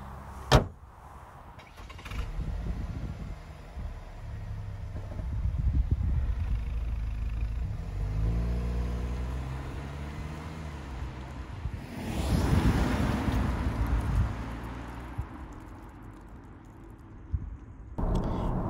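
Opel Insignia GSi Grand Sport with 230 PS driving on a road, a steady low engine and tyre rumble with wind noise rising and falling, one shift-like sweep midway and a couple of sharp knocks.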